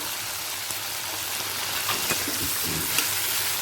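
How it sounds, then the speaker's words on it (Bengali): Chopped tomato and green chilli fry in hot oil, a dense crackling hiss like light rain, close and steady with a few faint stirring taps. "টমেটোটা তেলের সাথে এক মিনিট ভেজে নেব"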